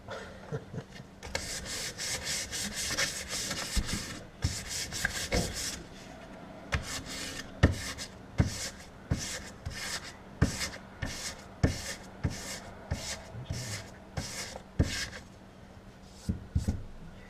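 Rhythmic scraping strokes of sandpaper rubbing across wood with the grain, close and steady, repeating in back-and-forth passes with brief pauses between them.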